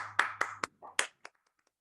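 A handful of sharp, separate hand claps ring out in an online kickoff event, about five or six distinct claps spaced unevenly and trailing off quickly into silence.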